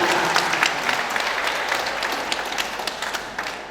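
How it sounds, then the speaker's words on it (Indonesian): Audience applause fills the hall at a Muhammadiyah regional assembly in Yogyakarta, a steady dense wash of many hands clapping that slowly fades toward the end. "Tepuk tangan untuk yang itu"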